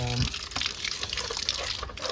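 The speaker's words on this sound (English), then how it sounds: "Just stir it up a bit." Water sloshes and trickles continuously as an aquarium filter containing blue carbon media is stirred by hand, a close, busy watery rush without a break.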